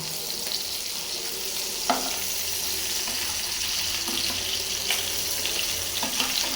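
Fish fries in a pan with a continuous hissing sizzle, close and fairly loud, with a few soft clinks and scrapes scattered through it.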